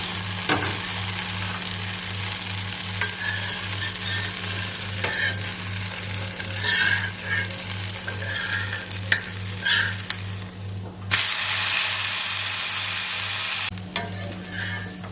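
A kambu (pearl millet) dosa sizzles steadily on a hot pan as it crisps, a continuous close hiss with faint crackles and a low steady hum underneath; the sizzle jumps louder near the end, no talking.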